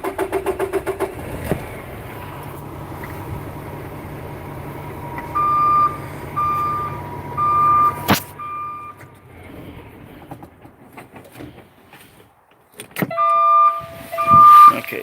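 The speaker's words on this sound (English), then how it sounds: "Okay, so you can hear it beeping right now." A vehicle's backup beeper sounds in short, evenly spaced electronic beeps over an idling engine, with a sharp clunk partway through and the beeping resuming near the end.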